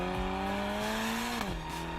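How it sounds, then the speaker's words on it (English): A 2016 Ferrari California T's turbocharged engine drones steadily close by with a smooth, subdued exhaust note, then drops in pitch as the revs fall near the end. "the exhaust note is slightly more subdued than the fever-pitched wail of the outgoing model,"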